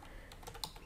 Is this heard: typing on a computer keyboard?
yes